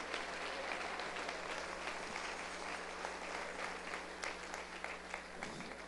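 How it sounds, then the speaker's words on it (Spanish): A church congregation applauds in praise of the Lord, a steady sustained wash of many hands clapping at moderate distance over a low electrical hum, with no speech. "denme un aplauso al Señor"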